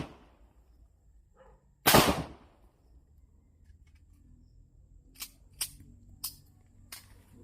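A test gunshot cracks once, loud and sharp, followed a few seconds later by several fainter, quicker shots in an uneven series, outdoors with quiet between bursts.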